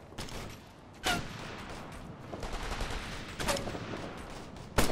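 Gunfire in the combat video game Operation Flashpoint Red River, rapid distant automatic bursts rattling throughout with several sharp, louder nearby shots cracking at intervals.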